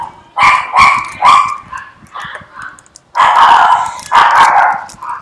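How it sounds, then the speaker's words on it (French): A dog barks loudly and nearby in a home workshop, with several sharp barks in quick bursts, a pause, then two longer, heavier barks, and no talk over them. "Vous entendez le clébard là, aboyer là?"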